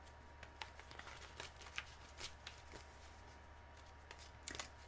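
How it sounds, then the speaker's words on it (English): Tarot cards being shuffled by hand, a faint series of soft riffling flicks and taps at an irregular rhythm, close and quiet with little else around. "Shuffle, shuffle, shuffle."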